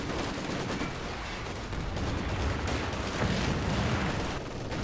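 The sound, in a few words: machine gun firing in a video game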